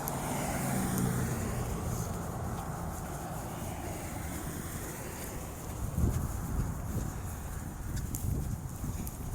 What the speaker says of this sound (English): A lot of truck traffic.